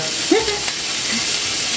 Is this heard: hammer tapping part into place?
no